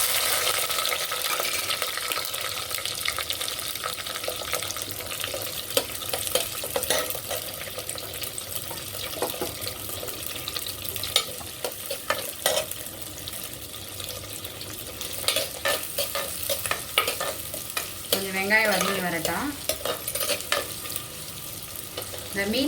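Shallots sautéing in oil after spluttered mustard seeds for a hotel-style fish curry, a steady close sizzle with crackles and occasional stirring scrapes throughout.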